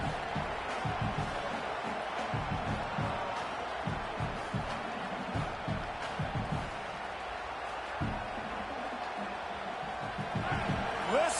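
Loud, dense roar of a stadium crowd at a college football game, cheering steadily for the home defense, with swelling bursts and low rumbling thumps throughout.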